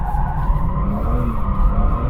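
A BMW M4 drifting on full lock, its tyres squealing loudly and continuously under a roaring engine, close and sustained throughout.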